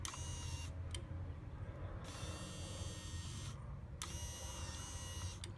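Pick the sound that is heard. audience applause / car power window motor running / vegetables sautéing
car power window motor running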